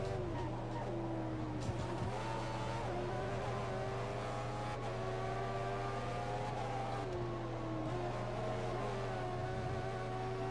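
A Toyota Formula 1 car in the F1 2014 racing video game holds a steady, droning engine note with shifting pitch and brief tyre squeals. Other cars can be heard faintly underneath, and no one speaks.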